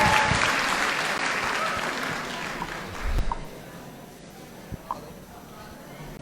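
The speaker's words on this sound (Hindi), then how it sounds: "एक बार जोरदार तालियां हो जाए everybody." Applause from a student audience at a career-guidance talk for youth, dense clapping that swells early and then thins, with a murmur of voices underneath.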